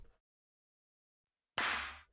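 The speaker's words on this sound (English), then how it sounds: "And there's even a clap." A single sharp, bright clap hit from a drum beat built in Logic Pro, near and alone, landing after a short silence and decaying quickly.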